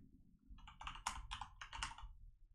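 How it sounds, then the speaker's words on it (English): Quick, irregular keystrokes on a computer keyboard, close and clear, tapping out a short burst of entry in a game menu with a low hum underneath and no talking. "would help if I was typing right"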